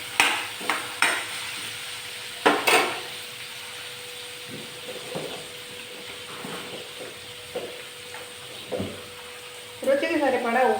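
Chopped ivy gourd and brinjal with salt and turmeric fry and get stirred in a pan for chutney, giving soft sizzling and scraping with scattered spoon clanks. A voice is briefly heard near the end.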